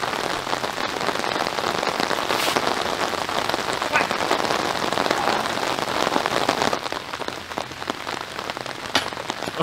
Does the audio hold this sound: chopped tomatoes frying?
no